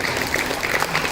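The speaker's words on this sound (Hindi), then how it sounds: "हमारे ऑर्गेनाइजिंग टीम, मिसेस सरिता यादव टीचर, नीलपमा टीचर और शारदा टीचर के लिए जोरदार तालियां इन 3 सुंदरियों को" At a school Diwali celebration, an audience gives loud, dense clapping that holds steady throughout the moment, with no one speaking over it.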